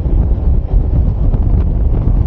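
Loud, continuous hot wind buffeting the microphone while riding a motorcycle, a dense low roar as if moving fast through open air, with no talking.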